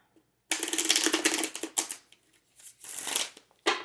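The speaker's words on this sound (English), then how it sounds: "one more shuffle, I think, here." Crisp riffling and slapping of tarot cards being shuffled, several bursts in quick succession with short pauses between, close up and fairly loud.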